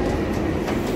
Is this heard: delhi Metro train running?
yes